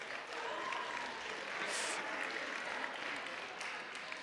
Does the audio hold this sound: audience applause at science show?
yes